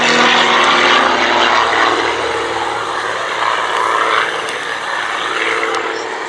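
Propeller warbird at an airshow roaring steadily overhead during a formation twizzle manoeuvre, a loud continuous engine drone with a slowly shifting pitch, heard alongside an outdoor commentator's voice.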